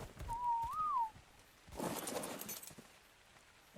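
A player's whistle command in the video game ARK sounds as a single clear, pure tone that holds steady and then bends upward before dropping, lasting under a second, followed by a burst of rustling game noise.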